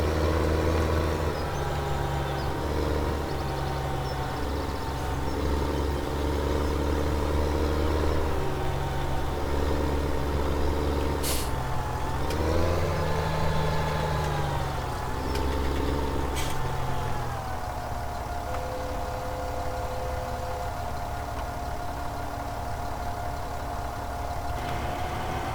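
A farm tractor engine runs steadily and loud at ploughing speed as work begins on a field, a continuous droning rumble that shifts pitch slightly as the load changes, with no voices.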